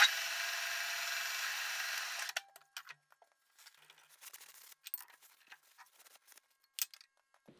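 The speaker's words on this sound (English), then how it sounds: "just use this nice big countersink and just give myself a little chamfer for that tap to go into" A large countersink cuts a chamfer into 1-inch steel plate, starting with a steady whirring grind for about two seconds and then giving way to quieter scattered clicks and scrapes, with no talk.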